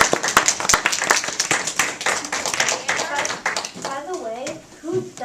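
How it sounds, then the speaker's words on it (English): A burst of applause from a third-grade class, with rapid, dense clapping, fading after a few seconds as a voice begins speaking. "Round of applause for Conor."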